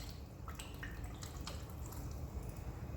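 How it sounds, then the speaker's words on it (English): Tequila is poured into watermelon punch, a steady close gurgling splash with small dripping plinks, all on its own with no speech. "I'm gonna dump some tequila inside of it, just like this"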